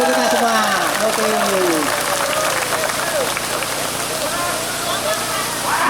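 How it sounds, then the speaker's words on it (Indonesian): A group applauds together at an outdoor survival-training gathering. The clapping is a dense, steady patter that lasts throughout, with voices talking and calling over it. "Tepuk tangan untuk kita semua."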